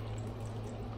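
Water poured onto a potted jade satin pothos (Scindapsus), a steady, close, continuous splashing pour that lasts about a second with no voices.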